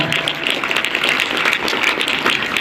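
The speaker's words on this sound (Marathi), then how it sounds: "टाळ्यांचा आवाज" A school audience claps continuously at a Constitution Day event at Dnyanesh Vidya Mandir, CIDCO N2, Chhatrapati Sambhajinagar, a steady dense patter of many hands throughout, with no talk.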